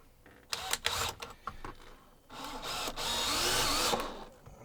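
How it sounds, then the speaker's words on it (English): Power drill driving a screw into wood, a few short bursts followed by a longer sustained whirring run, close and loud, with handling knocks between. "I'm gonna try to screw this side down and see if I can open that kerf up again."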